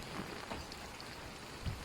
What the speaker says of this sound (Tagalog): Ayan o, oh, pumapatak na naman ang ulan.